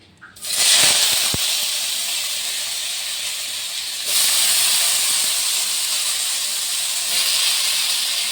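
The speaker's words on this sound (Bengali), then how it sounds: "এই সরিষার তেলটার মধ্যে আমি এই কেটে ধুয়ে রাখা এই সবজিগুলো আমি দিয়ে দিচ্ছি।" Cut, washed vegetables dropped into hot mustard oil set off a loud, steady hiss of sizzling that starts abruptly and continues throughout, swelling again partway through as more moisture hits the oil, while the bottle gourd greens curry begins to cook.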